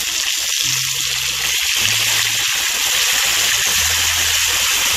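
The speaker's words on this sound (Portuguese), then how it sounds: "colocamos um pouco de água." Water rushes and sizzles steadily into a hot pan of browned chicken pieces and onions for Brazilian frango acebolado, a continuous gushing hiss with faint low hum underneath.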